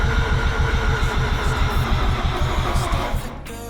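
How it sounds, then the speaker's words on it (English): Mazda RX8 Renesis rotary engine cranking over on the starter without firing, a steady rapid rhythmic chug close up for about three seconds before cutting off. "I'm gonna crank it a little bit more and see if the gauge does anything."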